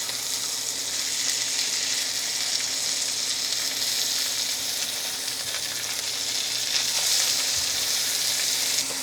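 Smash burger patties sizzle steadily in a hot pan after being flipped, a dense, even crackle that holds close and loud with no voices.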